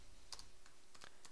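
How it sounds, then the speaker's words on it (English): Quick keystrokes on a computer keyboard while writing iPhone code, several light clicks in an uneven burst over a quiet room hum, close and soft, with no talking. "I don't want to keep typing it out over and over again"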